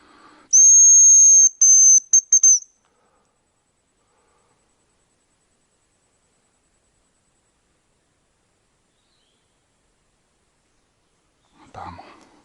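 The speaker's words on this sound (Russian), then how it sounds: "Где-то вроде рябчик я услышал." A high, thin whistle of a hazel grouse in autumn taiga, a long tone followed by a few short broken notes, then silence and a faint rustle near the end.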